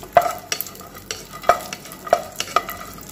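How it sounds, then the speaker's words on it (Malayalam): Raisins sauté in a pan with repeated sharp scrapes and taps of a spoon over a light, close sizzle, about five distinct stirring strokes. "ഇനി നമുക്ക് ബാക്കി റൈസിൻസും കൊണ്ടെടുക്കാം ഇനി ഇത് ജസ്റ്റ് ഒന്ന് വഴറ്റിയാൽ മതി"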